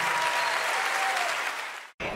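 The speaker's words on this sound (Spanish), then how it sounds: "Otro aplauso para estos cracks." A studio audience bursts into sustained applause for two guests on a live talk program, a steady wash of clapping that holds loud, then thins and cuts off abruptly near the end.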